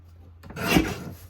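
Paper being trimmed for a craft page kit, a single short rasping cut of about half a second, close and fairly loud, with nothing else heard.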